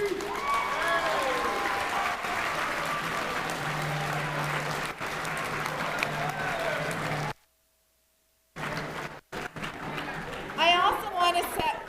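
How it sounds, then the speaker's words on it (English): A hall full of people gives a steady round of applause at a university varsity awards gala, honouring the staff who care for athletes. The clapping is dense and sustained, broken by a brief dropout before resuming with some cheering. "Please give them all a round of applause."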